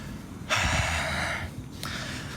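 A person catching their breath after singing, with one loud sharp inhale that holds for about a second, followed by a shorter quieter breath.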